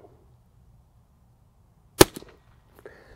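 A single sharp gunshot from a Ruger American Rimfire rifle loaded with .22 Short rounds, fired outdoors at small-game targets on a cloudy day; a quiet, crisp crack with a brief echo, then near silence.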